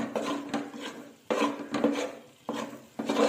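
A spoon stirs ghee and flour halwa in a pan over low heat, making a rhythmic scraping and rasping in repeated strokes of about half a second each, close and clear, with no talk.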